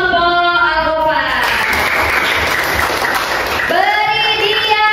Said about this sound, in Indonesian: Tepuk tangan untuk kelompok Al-Ghofar